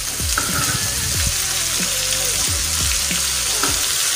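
Chicken liver (kaleji) frying on a hot tawa griddle, a loud continuous sizzle with bubbling crackle and occasional scraping or stirring sounds close by.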